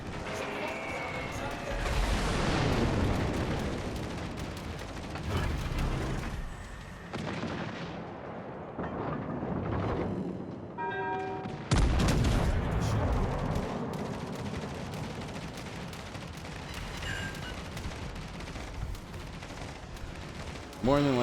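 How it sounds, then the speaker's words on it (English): Aircraft carrier AP bombs exploding in World of Warships Legends, loud booming blasts and rumbling impacts in a dense cluster, with game effects and a voice talking over parts. "Now the aircraft carrier is bringing AP bombs over my head."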